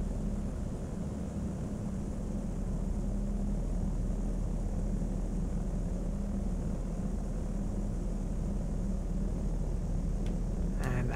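Airplane engine in the flight simulator game Flight Sim World during a gentle landing, a steady droning propeller hum with broad rushing noise, constant and fairly loud, no talk.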